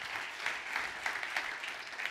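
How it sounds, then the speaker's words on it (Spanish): A church congregation applauds, a fairly faint, steady patter of clapping with a few louder bursts, heard from a distance across the room. "Le da ese aplauso, Señor."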